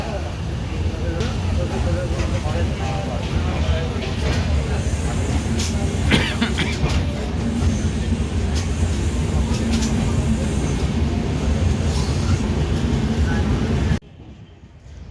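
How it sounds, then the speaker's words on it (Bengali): The Azad Hind Express rolls into Raipur Junction station with a steady low rumble and rattling carriages throughout, plus occasional brief clanks, while people talk nearby; the noise drops off sharply near the end. "আমাদের ট্রেন এখন ঢুকছে রায়পুর জংশন স্টেশনে।"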